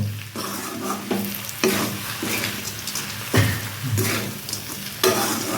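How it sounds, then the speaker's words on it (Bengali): A spatula stirs dried fish mixed with green tomato in a frying pan, giving repeated scraping strokes over a steady close sizzle, with no talking. "টমেটোর সাথে মাছটা ভালো করে মিক্স করে নেব"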